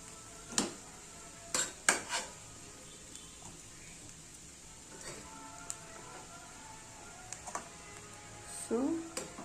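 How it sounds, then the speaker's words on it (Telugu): Cooked food being stirred and mixed into rice with a metal spoon against a pot, a few sharp scraping clinks and soft stirring between them, with quiet talk in the background. "సో దీన్ని రైస్తో కలుపుకోవాలి."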